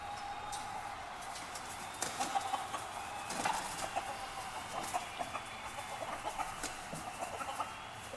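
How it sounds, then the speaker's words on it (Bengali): Two roosters fight amid faint, scattered clucks and squawks over a steady background hiss, with brief sharp flurries in the middle and no voices. "মোরগ দুটো কেউ কাউকে ছাড়তে রাজি নয়, যেন বহু জন্মের শত্রুতা তাদের"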